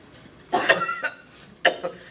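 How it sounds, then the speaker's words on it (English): A sick person coughs: two close harsh coughs followed by a third after a short pause, near and clear against a quiet background. "I have a really bad cough and stuff just keeps coming out."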